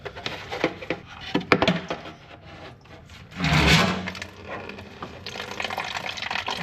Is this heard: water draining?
yes